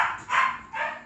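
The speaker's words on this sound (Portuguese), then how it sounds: "Desculpa, gente, é o cachorro daqui do vizinho." A neighbour's dog barks in two loud, close bursts separated by a short pause, heard alone with no talk over it.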